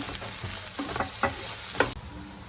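Steak in mushroom sauce sizzles in a pan as it is stirred, a close steady fry with a few spoon scrapes, then the sizzle drops suddenly to a quieter simmer.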